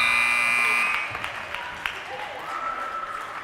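A loud electronic buzzer sounds at the end of a quarter in a girls' high school basketball game, lasting about one second, then cuts off. Crowd noise and scattered thumps continue in the gym afterward.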